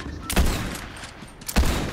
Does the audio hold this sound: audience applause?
no